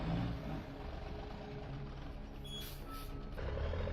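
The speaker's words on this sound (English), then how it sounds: "The engine roars, the wheels grip firmly on the road, and each log is hauled up steadily" A heavy logging truck loaded with dozens of tons of timber climbs a steep slope, its engine giving a loud, continuous roar close by, with a short hiss midway and no voices.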